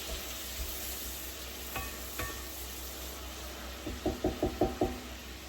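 Onions sweating in a pot for hamburger soup, with a few soft spoon knocks against the pot and then a quick run of five or six stirring scrapes and taps, over a low, steady sizzle.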